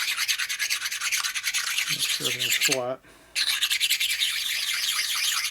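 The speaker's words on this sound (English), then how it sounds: "It's just a matter of taking your honing stone here." A honing stone rasps back and forth across the gasket surfaces of a 1947 Harley-Davidson EL knucklehead 74ci engine case, in loud, close strokes with a brief pause, while someone speaks briefly over the scraping.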